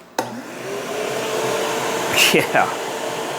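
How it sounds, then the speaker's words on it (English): A shop vacuum starts abruptly and runs as a steady loud whoosh in a workshop, with a brief burst of other noise near the end. "Now let's add the shop vac."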